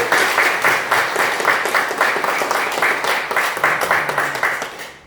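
An audience in a lecture hall claps in unison after a talk, loud rhythmic applause with a steady beat of repeated synchronized claps, close and continuous.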